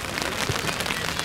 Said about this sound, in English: There's been a steady rain for the last couple hours.